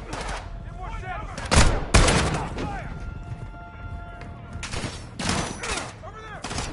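Bursts of automatic rifle fire and single shots crack through a Modern Warfare 2 firefight, loud and close, with soldiers shouting over the shooting.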